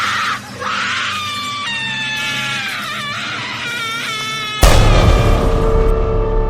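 A girl in a horror story screams frantically, a long, loud, shrill wail with wavering pitch that runs almost continuously and then breaks into a harsher, noisier burst of screeching near the end.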